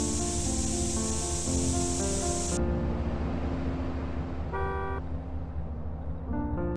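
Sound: spray painting a gang tag in GTA San Andreas video game

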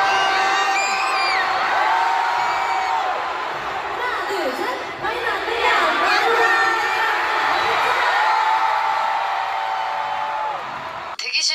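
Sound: crowd cheering at a concert in Manila

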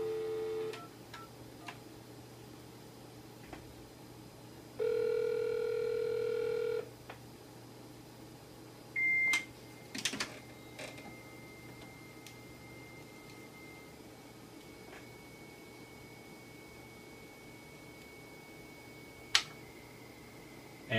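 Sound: telephone dialing and 300 baud acoustic modem connecting

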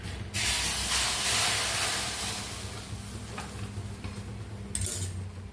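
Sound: mustard seeds added to hot oil, sizzling

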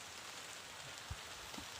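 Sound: rain falling

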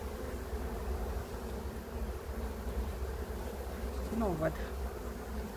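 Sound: honeybees buzzing around hive boxes

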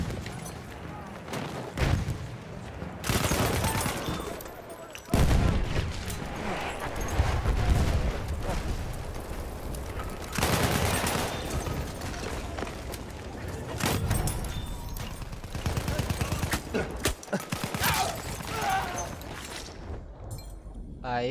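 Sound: machine gun fire in Battlefield 1 video game

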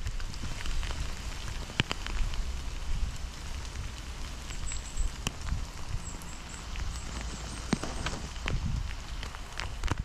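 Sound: rain falling on a Pertex jacket outdoors

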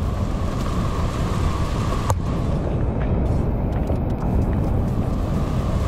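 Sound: waterfall water roaring during heavy monsoon

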